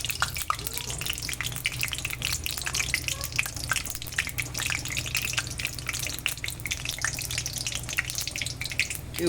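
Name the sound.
cumin frying in hot oil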